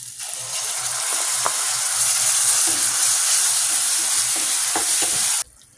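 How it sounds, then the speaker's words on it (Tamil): Garlic and shallot paste sizzles loudly in hot oil, a steady bright frying hiss with occasional stirring clinks, cutting off abruptly near the end. "இப்போ பூண்டு சின்ன வெங்காயம் பேஸ்ட்டு நம்ம இப்போ ஆட் பண்ணிக்குவோம்."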